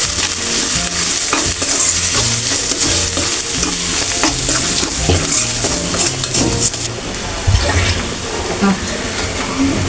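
Ground turmeric and chili powder frying in a pan with steady sizzling, and frequent scraping stir strokes and utensil clinks against the pan throughout, close and continuous.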